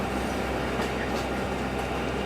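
Steady rumble of a Bangladeshi DEMU diesel-electric multiple unit train running in Trainz Simulator, a continuous broadband drone with faint rhythmic track noise, even and unbroken throughout.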